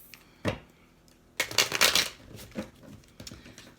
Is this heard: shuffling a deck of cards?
yes